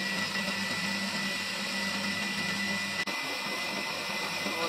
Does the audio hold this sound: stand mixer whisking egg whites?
yes